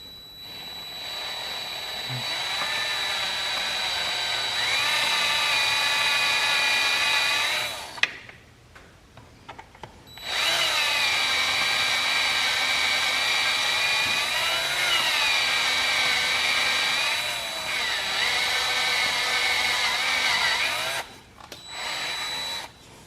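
A power tool cuts a small groove into a workpiece so an insert can seat in it. Its loud, steady whine runs in two long stretches separated by a brief stop, then cuts off near the end.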